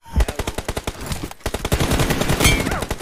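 Rapid bursts of M4 rifle fire in a first-person shooter game: loud, close, sharp shots in quick succession, a brief pause, then a denser volley with some echo.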